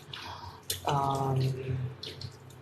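Water from a tap runs briefly over an item being rinsed in a kitchen sink while a cook prepares char kueh teow, splashing and gurgling in short bursts amid some speech.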